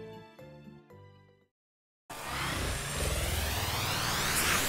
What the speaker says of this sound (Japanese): それじゃあ悟空さん、二人でドライブに出発するだ